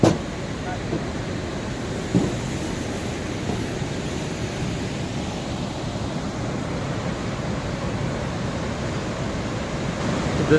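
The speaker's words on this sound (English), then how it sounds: "This was the thundering sound that we were hearing from a long time. The water crashing on these huge rocks." Heavy, steady roar of a waterfall's force crashing onto huge rocks near the Kheerganga bridge, a dense unbroken rumble holding constant loudness throughout with no pauses.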